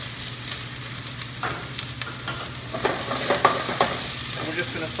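Onions, celery and carrots sauté in hot oil in a saucepan: a continuous sizzle runs underneath while irregular scraping stir strokes come through, growing busier and louder toward the end. No one speaks.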